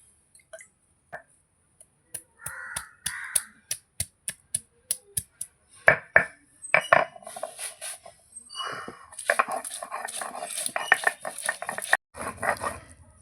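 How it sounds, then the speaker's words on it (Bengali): Cumin and ginger being ground on a grinding stone: a run of sharp, regular knocks early on, then rougher scraping and rubbing strokes that grow denser and louder toward the end, close and without talk. "জিরের সঙ্গে আদাটাও বেটে নেব"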